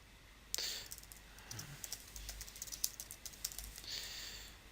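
Typing on a computer keyboard during C++ game programming: fast bursts of light key clicks, close and fairly quiet, in a rapid uneven rhythm.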